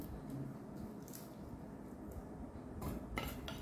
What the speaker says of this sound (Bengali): খুব ভালো করে মেশাতে হবে কফি পাউডারটা।